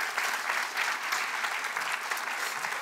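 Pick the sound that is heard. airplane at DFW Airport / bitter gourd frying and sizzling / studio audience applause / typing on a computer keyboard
studio audience applause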